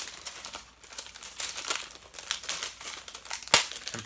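Plastic wrap sealing a Blu-ray case crinkles and crackles close up in quick, irregular rustles, with one sharp snap near the end and no talking.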